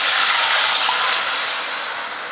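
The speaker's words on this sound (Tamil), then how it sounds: "அந்த புளி தண்ணி சேர்த்துக்கலாம்." A steady, loud rush of tamarind water pouring and splashing into a pan, continuous for a couple of seconds and easing slightly toward the end.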